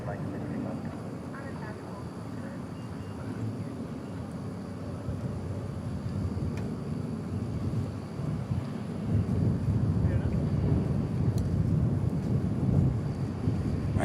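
Airliner rumbling on departure at DFW airport at night, a broad low roar that slowly swells louder over the span, with faint background voices.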